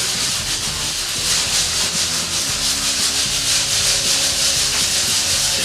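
Body filler on a car frame being sanded by hand: a continuous loud, rough scraping rub with rhythmic back-and-forth strokes, close up and alone with no talk.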